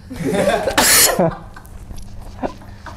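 A single harsh, loud cough bursts out up close, followed by a few quieter throat sounds and faint breathing.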